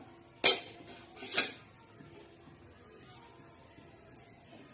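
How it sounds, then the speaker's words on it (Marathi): A spatula clinks twice against the pan while mustard seeds are stirred for tempering, followed by a faint tap, close by and otherwise quiet. "आता ही आपण टाकणार आहोत मोहरी आणि छान मस्त असं हलवून घ्यायचं ते"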